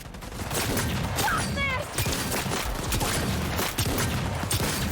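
Gunfire from a gun in the video game Cyberpunk 2077, a dense continuous barrage of loud shots lasting the whole clip, with game effects mixed in.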